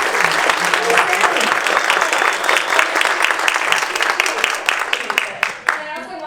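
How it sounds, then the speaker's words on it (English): Loud, dense applause from a conference audience at an economic equity summit, many hands clapping steadily close by, then thinning into scattered claps near the end. "can we give a round of applause?"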